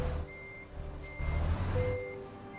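A truck's reversing beeper sounds in steady repeated tones while parking on a hill, over the low rumble of the idling engine and a brief hiss that could be air brakes.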